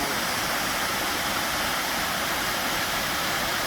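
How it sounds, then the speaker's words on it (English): A large waterfall on Lake Superior in Michigan's Upper Peninsula gives a steady, loud, unbroken rush of falling water with no pauses. "this is a pretty significant waterfall"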